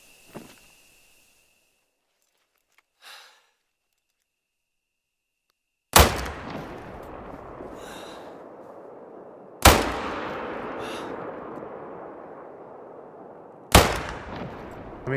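Three loud gunshots in a video game hunt aimed at a boar crack several seconds apart, each followed by a long rolling echo, after a quiet stretch with faint clicks.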